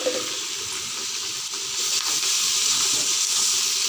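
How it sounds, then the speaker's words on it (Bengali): Vegetable curry frying in a pan, a loud continuous hissing sizzle that swells slightly partway through, close and steady with no speech. "এবার এটা ভালো করে ভেজে নেব।"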